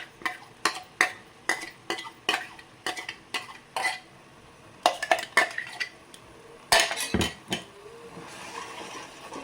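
Tomato and green chilli paste frying in a pan for restaurant-style chana masala, stirred with a utensil that knocks and scrapes the metal in repeated close clacks over a faint sizzle, no talk.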